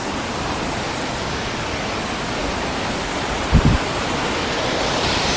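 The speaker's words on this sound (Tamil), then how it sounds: "எத்தனை அருவி கொட்டுது பாருங்க" Waterfalls pouring in North Bali give a steady, broad roar of rushing water that holds even throughout, with a brief louder thump partway through.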